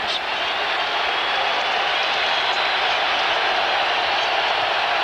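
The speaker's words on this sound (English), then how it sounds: "Marino dealing with a very loud crowd here at the Georgia Dome" A very loud football crowd roars inside the Georgia Dome during a 1998 Dolphins–Falcons game, a steady, dense wall of noise holding at full volume throughout.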